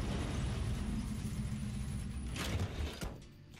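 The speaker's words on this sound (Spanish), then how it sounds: "la furgoneta hace ruido" A van engine runs in The Walking Dead video game, a steady low rumble and hum that holds throughout, then thins out with a couple of brief clunks near the end.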